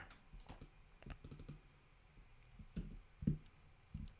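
A computer keyboard clicks as placeholder text is typed into an InDesign layout, with irregular bursts of crisp, close keystrokes and a few heavier taps, no voices.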